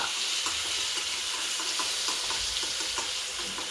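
Mirchi thecha chili paste sizzling in a hot pan while aloo paratha filling is prepared, a steady loud hiss of frying with faint stirring clicks throughout and no voices.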